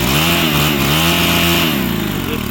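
A Stihl HT 131 pole saw's small two-stroke engine, freshly rebuilt with new rings, bearings, seals and an adjusted carburetor, runs loud and close in a steady buzzing drone with slight revving shifts.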